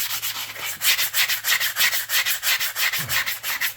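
A horse's hoof is buffed with a sand block in quick, even back-and-forth strokes, a close, raspy rubbing repeated about four times a second with no talk.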